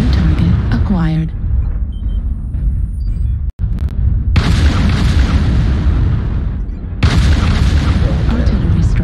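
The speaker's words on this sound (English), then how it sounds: "Artillery strike on." Artillery strike explosions in a video game, heavy booms and rumbling blasts with a sharp cut, loud and sustained, with voices talking over the barrage.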